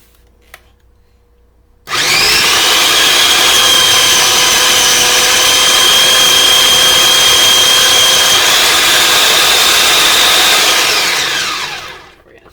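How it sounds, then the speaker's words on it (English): A food processor whirs loudly as it blends ingredients, starting abruptly after a short quiet moment, holding a steady high-pitched motor whine for about ten seconds, then winding down at the end. "this is going to be a little loud, but we are going to process all of our ingredients"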